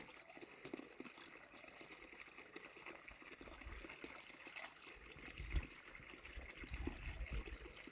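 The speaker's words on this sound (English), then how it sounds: "this is a cute little brook" A small brook on the Appalachian Trail near Hog Pen Gap flows with a steady, close wash of water, broadband and continuous with a few louder gurgles and splashes, no talk.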